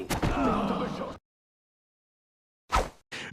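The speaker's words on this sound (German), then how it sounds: "Machen wir die Tür zu." A door is shut in the video game Commandos Origins: a short, solid slam lands after a stretch of silence, followed quickly by a second brief knock, both close and fairly loud.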